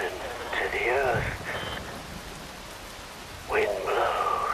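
Steady rain falls in the video game Metal Gear Rising: Revengeance, a constant hiss of downpour running through the whole stretch, with voice-like tones rising over it at moments.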